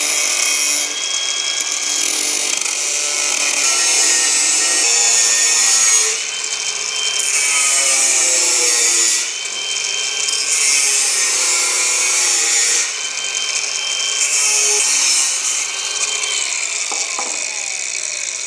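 Sawing through a motorcycle exhaust pipe to fit an electric dB killer, a steady rasping stroke-by-stroke cut that runs continuously and loud, with brief pauses between bursts of strokes.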